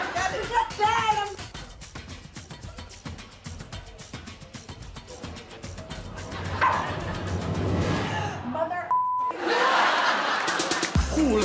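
Dogs bark and yip amid lively voices and laughter, with a steady beat of music running underneath.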